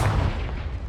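A single explosive blast as the Confringo fire spell is cast in Hogwarts Legacy, a loud booming burst that fades out within a second.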